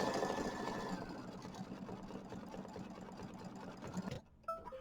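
A sewing machine runs steadily through a satin stitch on a small Kimberbell mini quilt, a dense continuous whir with a fine rapid stitching rhythm that stops abruptly near the end, leaving brief quiet clicks.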